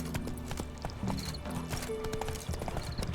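Horse hooves clip-clop steadily in The Witcher 3 video game, a close rhythmic trot over a dense bed of game ambience.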